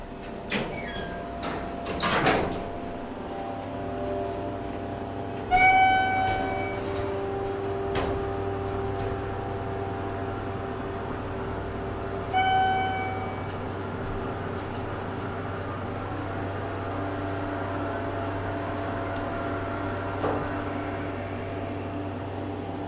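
A 1996/98 Schindler MT 300A hydraulic elevator at Baxter Business Centre in Exton, PA. A steady low hum runs throughout, and two sharp door or chime events ring out at intervals over the constant drone of the car.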